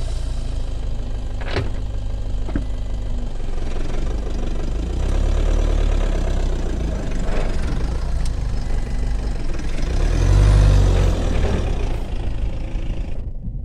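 Vehicle engine working in soft sand, reversing slightly then climbing out: a continuous low idling rumble with heavier surges of revving, close and steady, with faint knocks.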